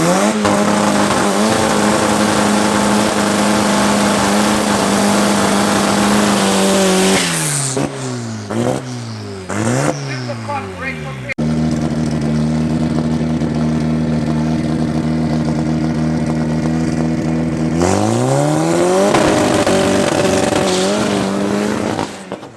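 A club race car on a solo run at Tarlton International Raceway roars loudly with a rough, misfiring engine, dipping into stuttering revs midway before surging again and fading near the end.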